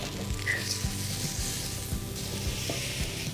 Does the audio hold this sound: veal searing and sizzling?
yes